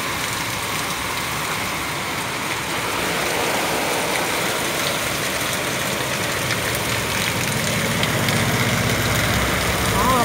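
A heavy downpour in Taxco sends rainwater rushing through the streets like a river. A loud, steady wash of rain and flowing water carries on unbroken throughout.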